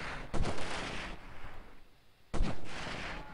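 Gunfire from other players in the video game Delta Force, Novaya Zemlya snow mission: two loud, sharp bursts of shots about two seconds apart, each leaving a long rumbling tail, with no talking.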